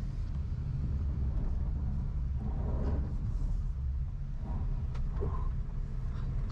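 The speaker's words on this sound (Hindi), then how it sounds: "टायर की आपको जो है जबरदस्त आवाज आ ही रही होगी गाड़ी के अंदर" Steady low road and tyre roar fills the cabin of an MG Windsor car on the move, a constant rumble with faint interior creaks and no talking.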